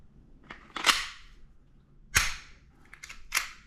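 An Umarex Glock 17 gen5 airsoft pistol fires several sharp, close snapping shots in an uneven sequence: a quick double, a single, then two more spaced apart, in a quiet room.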